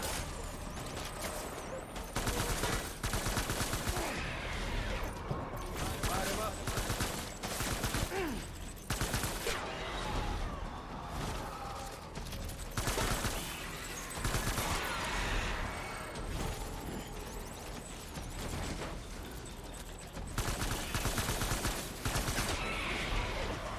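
Sustained gunfire in the video game Death Stranding, dense bursts and rapid volleys crackling almost continuously and loud, with brief lulls between heavy stretches of shooting.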